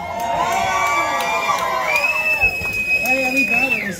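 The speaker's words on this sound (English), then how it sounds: "Y'all keep making noise for this young man." Crowd at a live music set in a tiki bar cheering and whooping continuously, loud and close, with high sustained shouts and whistles rising over the general roar.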